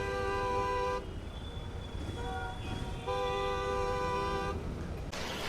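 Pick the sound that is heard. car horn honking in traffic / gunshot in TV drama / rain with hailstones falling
car horn honking in traffic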